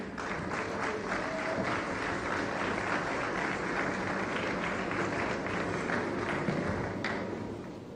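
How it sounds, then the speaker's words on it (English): Sustained, dense audience applause at an awards launch ceremony welcoming a legendary guest onstage, loud and steady throughout with scattered claps standing out and no speech. "please help me with a warm round of applause as we welcome the legendary Jedouble"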